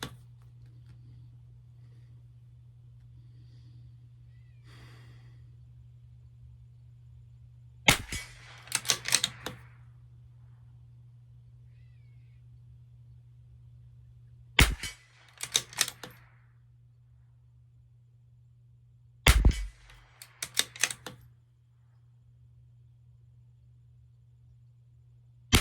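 .22 rimfire rifle shots with CCI Standard Velocity ammunition, three sharp, close cracks spaced several seconds apart, each followed by brief clicking of the bolt being worked, over a steady low hum.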